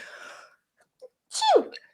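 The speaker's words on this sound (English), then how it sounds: "Sorry, guys, I had to sneeze." A single sharp sneeze bursts out after a brief indistinct voice, close and fairly loud, followed by a short exhale.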